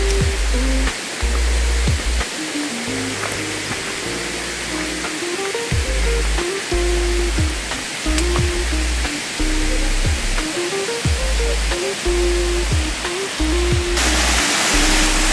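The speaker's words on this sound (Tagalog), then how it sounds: "bali yan po yung isang falls dito na" A low waterfall on a farm lot in Guinyangan, Quezon pours steadily, a loud, continuous broadband rush of falling water that stays constant throughout without voices.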